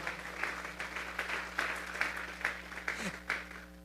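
Congregation clapping hands during a church service as an offering of applause, a modest, fairly steady patter of claps with a low hum underneath and some voices mixed in.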